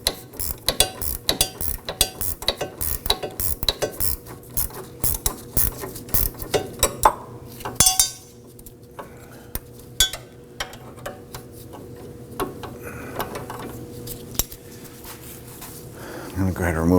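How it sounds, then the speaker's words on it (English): A 14mm gear wrench ratchets a sway bar link nut loose on the rear suspension of a 2005-2009 Subaru Legacy, giving rapid repeated metallic clicks for the first eight seconds, then quieter scattered clinks and handling noise nearby. "Now on the inside, we're going to use our gear wrench, our 14mm gear wrench."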